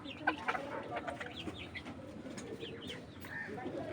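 Golden Sebright chickens, a small bantam breed, cluck and chatter softly and continuously nearby, with pigeons cooing faintly among them.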